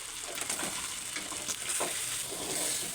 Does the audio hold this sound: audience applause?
no